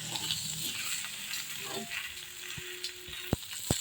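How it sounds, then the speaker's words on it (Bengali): Raw mango pieces for a sweet-sour pickle are stirred in a pan with a low continuous sizzle, soft scraping and a couple of sharp utensil taps near the end. "আমটাকে নাড়বো"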